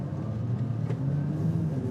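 Audi RS5 driving on a road with a steady low engine drone and road rumble at moderate, constant level under mild acceleration, no voices.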